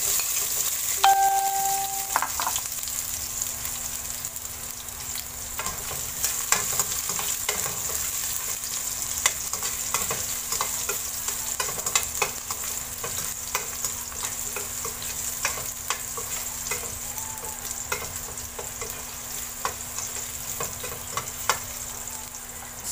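Garlic sautés in heated cooking oil for beef kaldereta, a steady close sizzle with occasional stirring scrapes, a brief ding near the start, and a constant low hum underneath.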